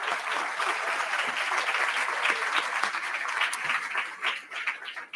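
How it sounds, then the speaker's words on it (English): Audience applause at a Columbus Metropolitan Club event, a steady, fairly loud wash of many hands clapping that tapers slightly toward the end. "Another round of applause, please, for all of us."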